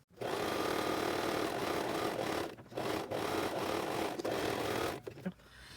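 A sewing machine stitching a fabric face mask with a straight stitch, a fast continuous whirring run interrupted by brief pauses, close and fairly loud, no talking.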